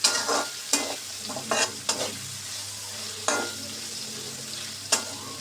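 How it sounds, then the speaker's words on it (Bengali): Chopped onions and garlic frying in hot oil, a steady soft sizzle broken by several sharp scraping stirs of a spatula in the pan, with no talking. "এখন আমি এই পেঁয়াজগুলো আর রসুন কুচিগুলোকে ভালো করে ভেজে নিব"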